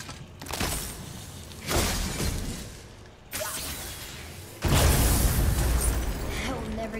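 Objects shatter in God of War in several loud, crashing bursts spaced a second or two apart, each breaking apart with debris and trailing off, set against ongoing game ambience.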